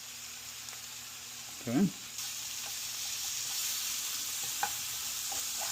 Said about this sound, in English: Artichokes are next. Alright, put in our artichokes.